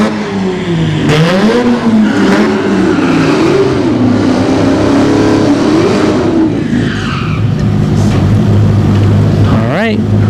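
Drag race cars, a Dodge Hellcat and a Chevy ZL1 Camaro at Orlando Speed World, rev loudly with rising engine pitch and a roaring pass, heard up close.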